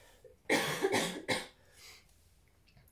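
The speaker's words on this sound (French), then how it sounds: "Excusez-moi, je vais tousser." A person coughs a few times in quick succession, close by and fairly loud, followed by quieter breathing.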